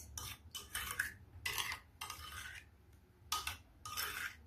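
Threaded raw carrot, beetroot and pumpkin being mixed together in a bowl for a salad, soft scraping and stirring strokes in several short bursts with brief pauses between, close and quiet.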